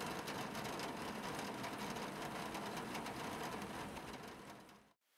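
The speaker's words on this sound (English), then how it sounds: "It's raining." Steady rain falls throughout, a dense broadband hiss with patter, loud and close with no voices, before cutting out abruptly near the end.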